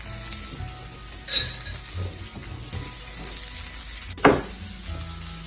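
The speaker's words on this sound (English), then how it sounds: "Okay, so we have our salmon cooking." Spiced salmon fillets sear in a frying pan with a steady, soft sizzle, joined by a few muffled thumps and one sharp metallic clink of a utensil.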